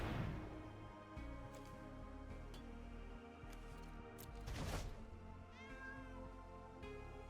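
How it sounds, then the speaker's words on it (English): Cat meows sound faintly several times over a dense bed of game music and effects, with no talking. "I don't know what that meow is that keeps happening"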